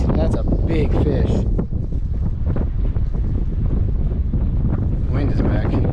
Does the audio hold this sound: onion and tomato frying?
no